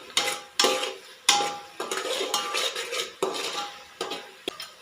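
Pav bhaji masala, two spoonfuls, is roasted and stirred in a pan. A metal spatula scrapes and clanks against the pan in irregular strokes, loud and close, with soft rasping between hits.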